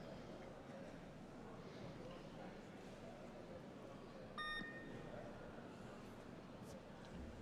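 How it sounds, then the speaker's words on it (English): A weightlifting competition timer gives a single short electronic beep partway through, rising clearly above the steady hum and murmur of a busy arena. "Beep, 30 seconds."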